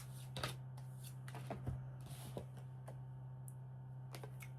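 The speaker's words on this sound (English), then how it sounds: "I hear one more shuffle." Soft, quick riffles and taps of tarot cards being shuffled, faint and intermittent over a low steady hum.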